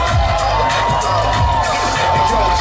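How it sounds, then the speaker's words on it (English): A festival crowd screams and cheers at a live Dub FX show at Tribal Gathering 2018. The roar is loud and continuous, with whoops and high shouts rising throughout. "you're screaming out there"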